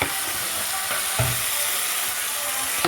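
Rice sizzling in hot ghee while being stirred for an Eid al-Adha lunch with meat and onions, a steady broadband hiss with a few soft scraping knocks from the spoon, close and continuous.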